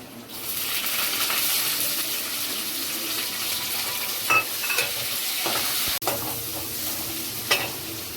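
Chopped onions sizzling steadily in a hot pan for paneer veg fried rice, with a spoon scraping and stirring at intervals and a few light clinks, close and continuous with no talk.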